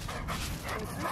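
A young adult Samoyed in the snow at a Vancouver ski area gives soft, close yips and whimpering barks, continuous across a short stretch with no talking.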